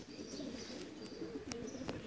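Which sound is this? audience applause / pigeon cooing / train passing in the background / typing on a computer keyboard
pigeon cooing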